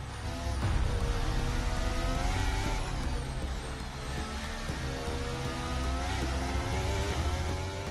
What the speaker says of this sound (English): You hear the Mercedes engine.